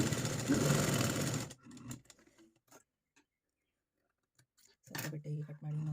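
A sewing machine stitches fabric for a scalloped cutwork sleeve, with a loud burst of whirring, a near-silent pause, then another short run, while someone speaks.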